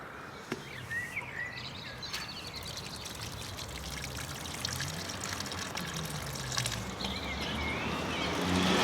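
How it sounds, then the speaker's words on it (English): Water poured from a can or jug over a freshly planted plant on an allotment in May, a steady trickling stream with soft splashing that grows slightly louder toward the end, no talking. "last thing to do is give it a little water"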